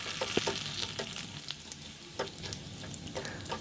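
Karachi rava vadiyalu frying in hot oil make a faint, crackling sizzle with scattered pops and light stirring scrapes, heard close up without any voices.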